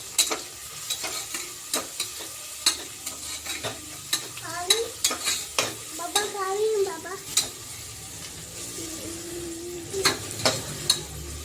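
Onion sautés in a pan at home, with soft sizzling beneath repeated sharp scrapes and clinks of a utensil against the pan; a voice is heard faintly in the middle.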